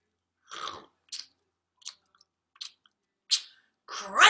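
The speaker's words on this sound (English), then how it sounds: "Munchy, crunchy, yum, yum, yum. Here's an apple, take one." Crunchy bites and chewing of an apple come as a string of short, separate crisp bursts with gaps between them, moderately close and heard on their own, ending in a louder, fuller chew.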